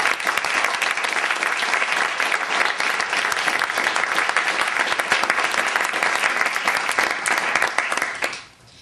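Steady applause from an audience at a Parks Canada awards ceremony honouring award recipients, dense sustained clapping that carries on evenly and then cuts off abruptly near the end.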